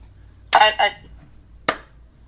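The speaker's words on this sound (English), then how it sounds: "I'm slow clapping right now" Slow, deliberate hand claps, two close together and then a third after a pause, sharp and near against a quiet background.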